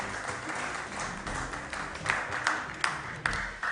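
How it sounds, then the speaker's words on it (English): Audience applause for school quiz contestants, a steady patter of many hands at moderate distance, with a few sharper individual claps standing out toward the end. "A round of applause to our contestants, please."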